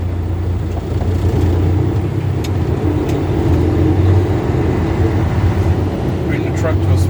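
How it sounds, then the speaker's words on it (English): A truck's engine drones in fourth gear while creeping up to about 5 miles per hour during a CDL pre-trip inspection, a steady low rumble heard from inside the cab. "So I'm going to put the truck in fourth. Speed up to 5 miles per hour."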